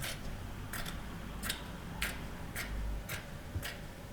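Scissors cutting up the sides of a t-shirt near the seam: a steady series of crisp, close snips about half a second apart, quiet and free of talk.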